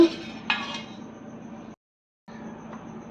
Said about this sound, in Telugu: పెరుగుని బీట్ చేయాలండి. పలుచగా ఉండాలి.